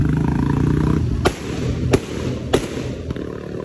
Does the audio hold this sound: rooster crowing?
no